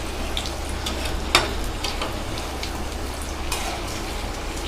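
Bread potato pakoda with potato, capsicum, gram flour, rice flour and onion fries in hot oil over a medium flame, a steady close crackling sizzle with scattered pops and spits.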